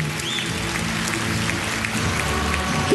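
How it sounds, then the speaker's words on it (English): A small group claps through a comedy awards segment, steady, close, dense applause lasting the whole stretch with no voices over it. "Yeah, Tom clapped for that one."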